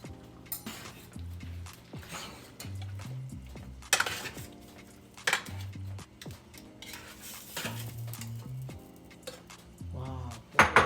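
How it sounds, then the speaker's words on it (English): Butter beans from two cans going into a Jamaican oxtail pot, with scattered metallic clinks, scrapes and spoon knocks against cookware, some louder bangs, and low tonal hum in between, no talking. "So now I'm gonna add my butter bean. 2 cans of butter bean."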